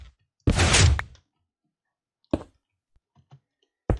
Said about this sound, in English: That's classic 2x2 piston door.